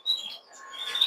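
Pet birds in an indoor bird room give short, high chirps and tweets, a quick burst at the start and more toward the end, close and fairly clear with no voices.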